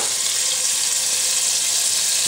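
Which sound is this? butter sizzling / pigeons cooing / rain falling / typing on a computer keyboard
butter sizzling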